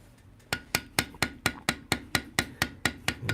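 A metal beveling tool is struck again and again on leather while tooling a knife sheath, about a dozen crisp, evenly spaced taps in a steady rhythm, close and alone.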